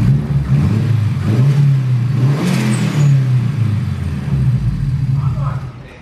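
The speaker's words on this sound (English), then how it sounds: "Give her a rev. We'll see if she still sounds good." A turbocharged Honda S2000 engine revs up close and loud, its steady rumbling drone swelling into a higher rev partway through before settling back and fading out at the end.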